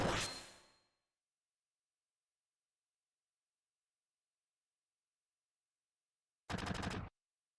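Gunfire from Final Fantasy VII during Zack's execution: a loud burst that fades at the start, a long stretch of silence, then another short, sharp volley near the end.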